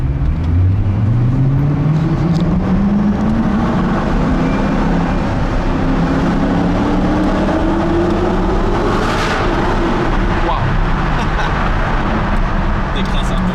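A Ford GT V8 pulls out of a car park in Monaco, its engine note rising steadily through the gears, loud and close, with people talking over it.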